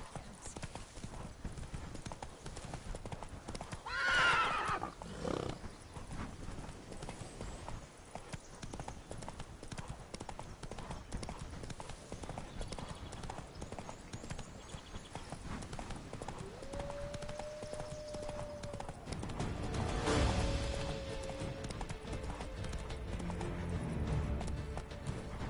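Roach the horse gallops in The Witcher 3: Blood and Wine, with steady rapid hoofbeats running throughout, a whinny near the start and snorts and game sounds layered over the top.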